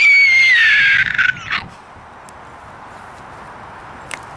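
A person's voice imitates a pterodactyl call: a loud, shrill, screeching cry with a falling pitch, held for about a second before breaking off into a few rough fragments, then quiet room tone.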